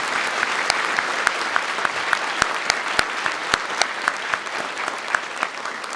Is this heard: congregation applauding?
yes